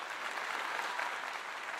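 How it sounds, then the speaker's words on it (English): Applause from a studio audience greeting a contestant on a comedy game show, a dense, steady wash of many hands clapping at moderate volume throughout. "Give him a round of applause"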